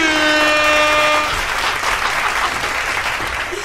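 Loud audience applause greets a guest on a lively Indonesian comedy talk show. A sustained tonal musical sting rings over the first second before dropping away, leaving thick, close clapping that eases slightly toward the end.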